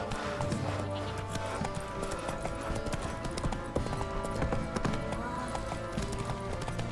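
Horse hooves clip-clop in a steady trotting rhythm in The Witcher 3: Wild Hunt, close and continuous over game ambience and music.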